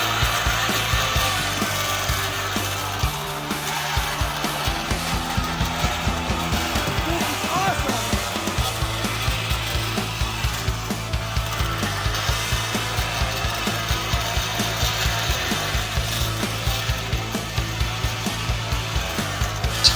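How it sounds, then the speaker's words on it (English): An old manual reel lawn mower driven by a Milwaukee drill runs steadily and loudly, a continuous mechanical whir and rattle with a low drone throughout, close up and without talk. "Not bad for an old manual mower, powered by a Milwaukee drill, right?"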